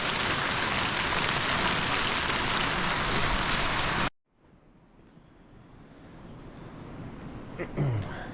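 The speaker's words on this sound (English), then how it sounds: "We haven't had a good rain like this for a while." Steady, dense rain falls outside a homestead on a rainy Sunday, loud and close for about four seconds, then cuts to a much quieter indoor space with faint patter and a low rumble slowly building.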